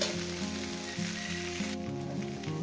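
Small river fish frying with Malabar spinach in a pan, a steady soft sizzle and crackle throughout, close and fairly quiet, with no talk.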